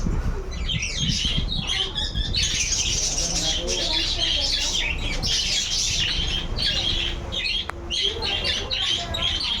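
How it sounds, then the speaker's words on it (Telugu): Many parrots in a fish aquarium shop chirp and squawk in a busy, overlapping chorus close by, shrill calls repeating throughout with faint background noise. "చిలుకలు"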